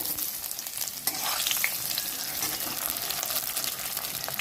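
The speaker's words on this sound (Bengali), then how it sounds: "এরপর দিয়ে দিচ্ছি কেটে রাখা বেগুনের টুকরো" Eggplant pieces fry in hot oil with bay leaves, dried red chillies and whole spices for a mixed vegetable curry, giving a close, steady sizzle with brief stirring scrapes and no talk.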